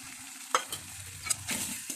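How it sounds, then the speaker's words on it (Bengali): Spice paste being stir-fried with onions in oil for a fish roe masala curry, a spatula scraping and stirring in bursts over a soft steady sizzle, close and moderately loud with no talk. "মশলাটাকে আমি পেঁয়াজের সাথে সুন্দর করে কষিয়ে নেব।"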